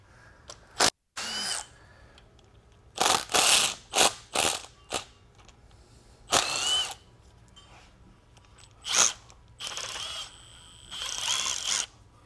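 A ratchet and socket turning bolts on a TH400 automatic transmission, heard as repeated close bursts of rapid metallic clicking separated by pauses, loud and without talk.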